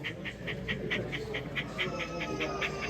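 A dog pants quickly and rhythmically, about five short breaths per second, close by over faint background rumble.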